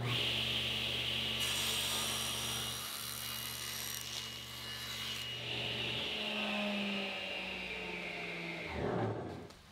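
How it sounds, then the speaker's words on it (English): A power saw rips along a half inch sheet of plywood, its steady loud whine and low motor hum running for nearly the whole stretch before dropping away as the cut finishes near the end. "Using the same piece of half inch plywood, I'll make the next rip at 1 1/16 inches."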